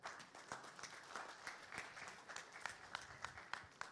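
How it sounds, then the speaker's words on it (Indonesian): Audience applause at an Indonesian football association congress, a fairly quiet patter of scattered hand claps with distinct individual claps standing out, no talking over it. "Tepuk tangan buat mereka."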